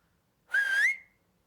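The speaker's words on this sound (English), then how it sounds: "where I whistle for a scull" A single clear whistle at the water's edge, calling for a scull, held for about half a second with a slight upward slide at the end, close and alone in a quiet setting.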